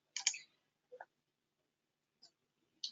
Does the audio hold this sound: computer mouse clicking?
yes